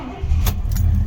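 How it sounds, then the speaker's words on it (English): A 1972 Pontiac Grand Prix, an unrestored original, restarting: a loud, close burst as the engine catches and settles into a steady running rumble, with no talking. "Again, car fires right back up."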